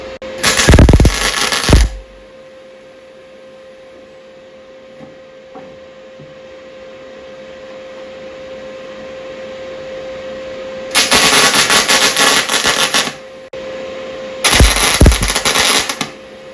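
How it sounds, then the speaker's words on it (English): A Bolens sleeve hitch is arc welded in three loud, crackling bursts, the first and last a second or two long and one longer in the middle, separated by quiet stretches with a faint steady tone. "We've just done a single tack, and we're going to remove the other stuff, the bracket and the R-clip, so that we can properly weld it."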